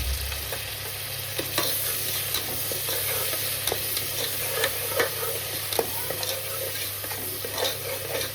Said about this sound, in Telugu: ఒక 2-3 టమాటాలను సన్నగా చాప్ చేసుకొని వేయించుకోవాలి